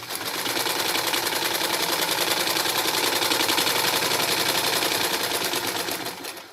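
A sewing machine runs steadily at speed as it stitches quilting lines across earlier seams in fabric, giving a fast, even mechanical chatter that stays loud and close throughout before easing slightly at the end.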